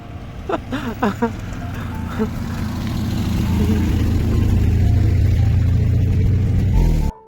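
A car engine rumbles low and steady as the vehicle arrives, growing louder and holding near before cutting off abruptly; a few brief voices and laughter come early over the engine.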